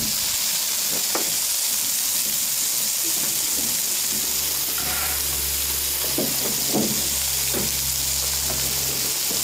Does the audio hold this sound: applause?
no